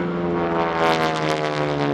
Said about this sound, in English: The propeller blade tips are going supersonic.